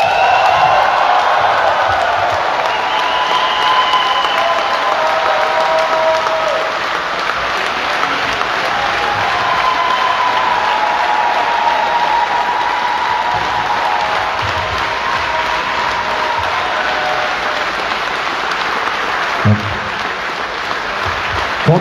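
Crowd applause fills a homecoming welcome ceremony in Jelgava, Latvia, for Olympic 3x3 basketball champion Edgars Krūmiņš. Loud, dense clapping holds steady for over twenty seconds, with scattered cheers mixed in.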